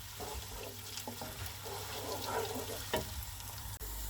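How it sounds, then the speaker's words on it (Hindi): Onions and garlic frying in a pan, a steady close sizzle with occasional stirring scrapes and a few clinks, moderately loud and without talk. "इसको 3 से 4 मिनट के लिए फ्राई कर लें जब तक ऑनियन का कलर चेंज हो जाए"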